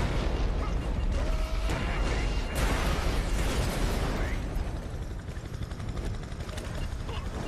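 A steady helicopter rotor drones loudly throughout, mixed with bursts and rumbling impacts in a noisy scene from the video game Prototype 2.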